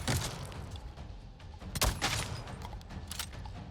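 A Na'vi enemy fires a shotgun in Avatar: Frontiers of Pandora, a few sharp blasts with one loud close shot amid rumbling combat noise.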